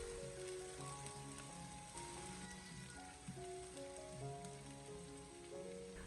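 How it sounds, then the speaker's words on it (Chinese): Chopped scallion, garlic and small red chilies sizzle steadily in hot oil in a wok over low heat, a dense continuous crackle with faint background music and no speech. "油热以后再把切好的葱蒜还有小米辣放进锅里面，开小火先把它翻炒一下"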